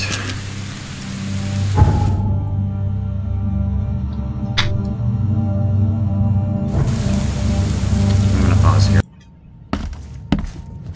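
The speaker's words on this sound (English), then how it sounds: "as you might have noticed, it's raining out." Steady heavy rain falls in the horror video game The Sinking City, a broad hiss that stops and returns, with a dull thump and some muffled sounds between the downpours.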